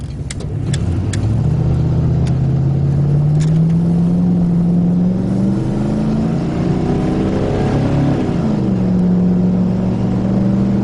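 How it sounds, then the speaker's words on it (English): A truck engine drones steadily while cruising on an Ohio highway at about 54 mph and 1800 RPM, a continuous low hum with slowly shifting pitch, some wind and road noise over it, and no talking. "I'm doing 54 miles an hour and I'm at 1800 RPM"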